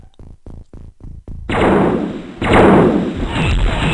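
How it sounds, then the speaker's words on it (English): Stun bombs and gunfire going off in XCOM: Enemy Unknown, a quick run of separate thuds followed by a dense, sustained roar of blasts and shooting, loud and close. "Lots of seemingly stun bombs going off."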